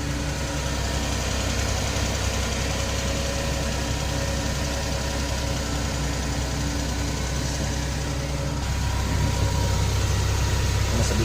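A car engine runs steadily at idle close by, a constant low rumble with a slight knocking texture that persists throughout, with no talk.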